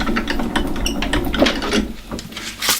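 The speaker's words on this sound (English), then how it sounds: "run it through your die machine, and this is what's going to cut your little pop-up sentiment" A die-cutting machine runs a pop-up sentiment and cutting mat through its rollers, making a close, uneven series of mechanical clicks, rubs and creaks with no talking.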